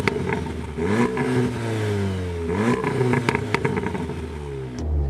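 A stock Volkswagen Golf R in race driver mode revs hard, its engine pitch climbing and falling in repeated sweeps, loud and close, with a short burst of clattering near the end.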